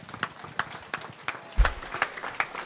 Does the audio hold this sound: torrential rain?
no